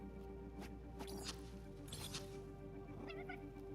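Short cat meows from a jetpack-equipped cat character in the Overwatch video game, heard over a steady game soundtrack with a constant low hum and faint background effects.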